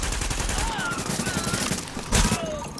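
Rapid gunfire rattles in the video game The Division, a continuous burst of shots with a louder crack near the end, heard beneath game sounds and voices.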